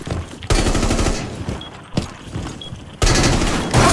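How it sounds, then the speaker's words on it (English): Bursts of rapid automatic gunfire in a shooter video game, loud and close, with a short lull between volleys and one sustained stretch of fire, no talking. "did you shoot me again, Clix?"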